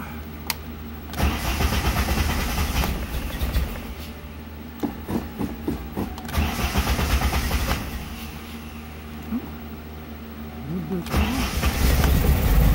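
A Volkswagen engine cranks on half choke and a little gas, with several bursts of cranking and sputtering separated by pauses before it catches and runs louder near the end, close by, with talk at times.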